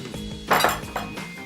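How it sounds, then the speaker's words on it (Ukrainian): Dishes and cutlery clink as Olivier salad is portioned from a mixing bowl onto plates, a few sharp close clatters with a louder burst in the middle, no talking. "Все змішали в ємності і тепер треба викладати порційно на тарілки."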